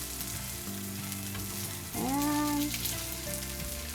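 Korean vegetable cutlets frying in a pan after being flipped: a continuous crackling sizzle close by, swelling briefly midway with a short squealing tone over the hiss, and no speech.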